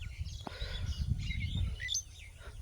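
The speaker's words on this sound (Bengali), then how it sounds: "পাখিগুলো সব কিচিরমিচির করছে" Several birds chirp and twitter in short overlapping calls, fairly close, over a low rumbling background.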